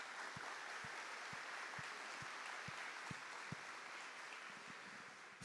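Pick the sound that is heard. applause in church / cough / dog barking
applause in church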